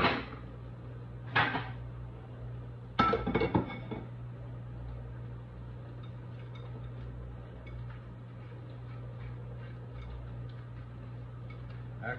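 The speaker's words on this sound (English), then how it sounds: "we're gonna scoop these seeds out here" A metal spoon scraping and knocking against a vegetable as seeds are scooped out, a few sharp clinks near the start, then quiet scraping over a steady low kitchen hum.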